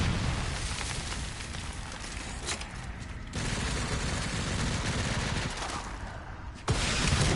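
A machine-gun zombie in Resident Evil Requiem lets loose sustained gunfire, a dense, loud rattling barrage that runs throughout with a couple of abrupt surges, and no one speaking.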